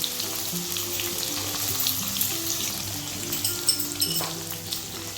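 Raw banana pieces and papad frying in hot oil with steady, dense sizzling and crackling throughout, close and continuous, with faint stirring knocks underneath.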